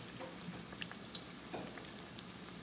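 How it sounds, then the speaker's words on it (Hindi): Urad dal vadas for dahi bhalla fry in oil over a low flame, giving a faint, steady sizzling hiss with scattered small pops and no speech. "वो पकौड़े की तरह बना के इसको फ्राई करने के लिए रख दिया है।"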